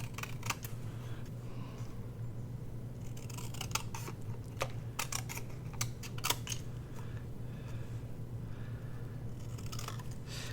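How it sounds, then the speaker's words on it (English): Scissors snip through paper ephemera in a quiet room, a scattering of short crisp cuts over a steady low hum, some bunched together and others spaced apart. "Oh, I got it a little crooked, so I'm going to have to cut crooked."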